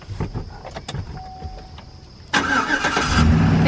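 A family car's engine cranks and catches after some quieter clicks and interior handling sounds, then settles into a loud, steady run close by.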